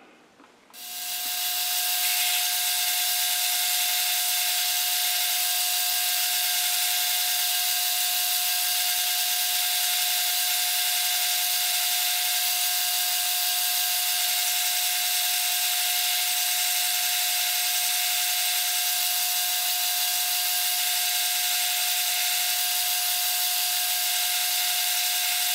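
Lathe drilling and boring a mill chuck tapping collar in a metal shop: after a brief start, a loud, steady machine whine and hiss hold continuously with a constant hum throughout.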